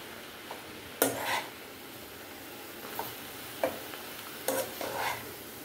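A spoon stirs laal maath sabzi in a pot after the lid comes off, giving several scraping, clinking strokes against the metal spaced a second or so apart, with a faint sizzle underneath.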